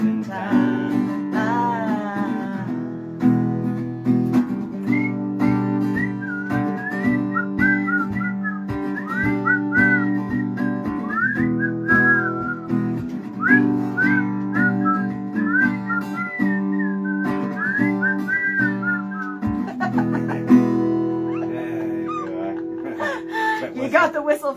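Someone whistles a melody over a steady backing of strummed music, the clear, wavering whistled phrases running through most of the passage.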